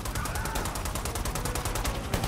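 Rapid automatic gunfire in Predator: Hunting Grounds, a fast continuous stream of sharp evenly spaced shots sustained without pause, loud and close.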